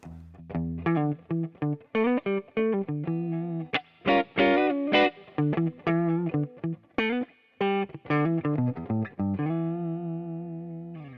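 Gibson Memphis ES-355 electric guitar with Bigsby playing a bluesy phrase with bends and short bursts of notes, slightly gritty through effects, alone and up close.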